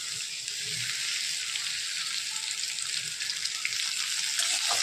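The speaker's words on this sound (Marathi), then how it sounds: "आता कढई गरम व्हायला ठेवून आणि आपण ह्याला तेलामध्ये थोडंसं परतून घेऊया" Chopped onions frying in hot oil in a kadhai give a steady, bright sizzle that holds evenly throughout, close and moderately loud, with no voices over it.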